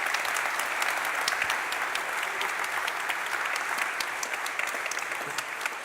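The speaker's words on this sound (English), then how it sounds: "Give a big applause to the panelists." A conference audience at a symposium on democracy and the rule of law in Europe claps for the panelists, dense steady applause filling the room and fading slightly toward the end.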